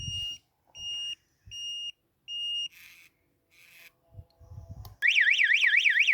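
A Spy 5000 alarm set off by its microwave sensor gives four short, evenly spaced beeps, then after some clicks and rustles a loud, continuous warbling siren starts up.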